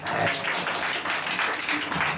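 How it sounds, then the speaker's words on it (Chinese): Steady, dense applause for a bass player from a crowd at a band rehearsal in a Taichung cafe, a continuous wash of clapping that holds at an even level from start to finish. "我们给贝斯手掌声鼓励一下"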